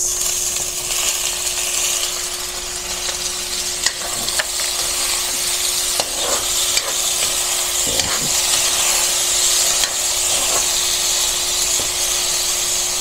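Tomatoes being added to a pan of sautéing onion and garlic for pork binagoongan, giving a steady, moderate sizzle with a few scattered stirring clicks and no talk.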